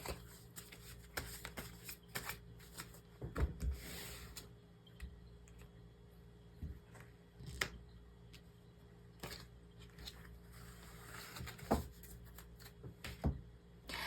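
Angel tarot cards are shuffled in soft, scattered rustles and light taps, fairly faint and close in a quiet room, with no voice over them.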